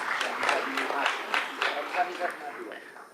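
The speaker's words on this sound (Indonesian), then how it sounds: "Kita beri tepuk tangan kepada Pak Menteri." Audience applause for a government minister at a parliamentary working meeting, a moderate patter of scattered clapping that rises and thins, with a voice speaking over it.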